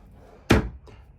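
A drawer closing inside a 2024 Keystone Passport 3401QD bunkhouse travel trailer: a single sharp thunk near the middle, followed by a fainter knock, close by with no talking.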